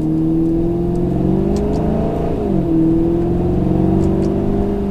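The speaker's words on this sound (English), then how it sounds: "We're still letting the car warm up." A Maserati GranTurismo Sport engine hums steadily from inside the cabin as it warms up, with a brief pitch dip and rise midway, loud and continuous.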